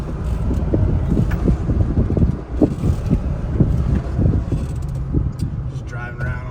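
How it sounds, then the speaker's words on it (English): Ram 2500 pickup with Carbon Shocks and an aftermarket sway bar rolling along an alley road, a low rumbling drive sound under steady wind buffeting on the microphone, with faint rattles throughout. "Just driving around on this kind of alley road here."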